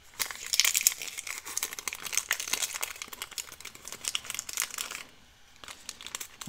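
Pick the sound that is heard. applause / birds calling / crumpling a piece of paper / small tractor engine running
crumpling a piece of paper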